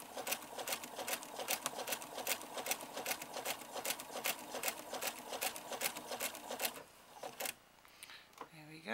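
A sewing machine stitches a corset boning channel with a rapid, even rhythmic clatter that is close and fairly quiet. It slows and stops near the end, followed by faint handling noises.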